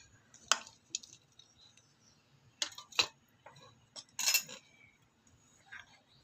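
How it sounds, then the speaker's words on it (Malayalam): Chopped ingredients going into a pan of chili-rubbed chicken for a Kerala chicken curry, a few sharp clinks and clatters of utensil against pan with quiet gaps between. "അതിലേക്ക് അരിഞ്ഞു വെച്ച ഇൻഗ്രീഡിയൻസും കൂടെ ചേർത്ത് കൊടുക്കാം"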